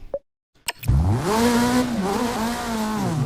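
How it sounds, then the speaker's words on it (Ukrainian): A buggy race car engine in the TRYP FPV drone racer simulator game revs up after a couple of short clicks, a loud, close, rising and wavering whine sustained to the end. "Це така рейсова машина"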